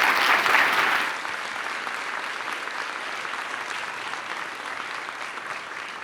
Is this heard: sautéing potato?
no